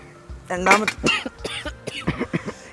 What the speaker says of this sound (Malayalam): ഈശ്വര പുകയല്ല, ആവി അടിച്ചിട്ടായി ചുമക്കുന്നത്